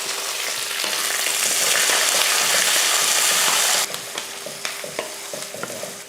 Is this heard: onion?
yes